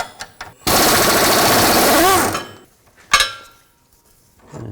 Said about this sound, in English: I'm going to remove the bolt for the right side upper sway bar link. I'm going to use an 18mm socket and an 18mm wrench.